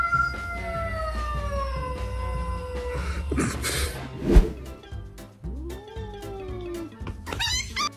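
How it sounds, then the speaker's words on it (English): Two cats fight at close range, with loud wavering yowls, sharp hissing bursts and scuffling that rise and fall over several seconds. "front row seats to the feline fight night just by owning two felines"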